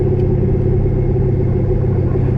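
Rear gears of a 1000 rwhp drag car with a Midwest chassis 9-inch rear end whine steadily over a loud, continuous engine and road rumble heard from inside the car, with no talking.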